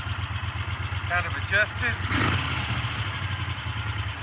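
A Moto Guzzi California II motorcycle engine idles with a steady low pulsing thump close by, while someone talks briefly over it.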